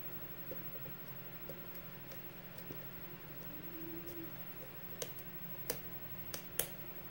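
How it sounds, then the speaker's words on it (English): Faint lock pins click while a Sparrows lock is being picked, a few sharp isolated ticks coming mostly toward the end over a quiet, steady room hum. "Okay, some more clicking there, I think from 3."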